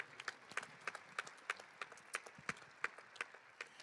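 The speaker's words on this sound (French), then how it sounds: "Il mérite vos applaudissements comme Marie-Zélia," A quiet audience at a sports awards ceremony in Béarn and Soule applauds champions, with faint, distant claps landing in a loose, fairly even rhythm.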